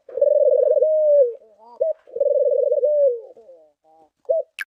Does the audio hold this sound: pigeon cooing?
yes